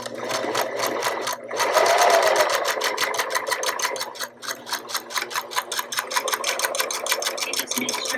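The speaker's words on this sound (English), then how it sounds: "now Jackson is going to go ahead and sew this" An industrial sewing machine stitching a flax-filled bag closed, a fast steady mechanical chatter with even rhythmic pulses, close and loud, briefly slowing midway before resuming.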